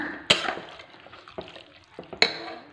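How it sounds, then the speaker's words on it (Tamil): Beef gravy in a pressure cooker is stirred so the oil coats the meat, a few sharp metal clanks of a spoon against the pot with soft scraping between, close and brief. "நல்லா கொஞ்சம் கிளறி கொடுத்துட்டு ஃபுல்லாக ஆயிலெலாம் அந்த கறியில் வர மாதிரி நல்லா கிளறி கொடுத்துக்கணும்"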